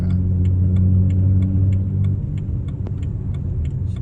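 A steady, low engine and exhaust rumble from a BMW 135i with an N55 engine in motion, moderately loud and even, with faint ticking over it.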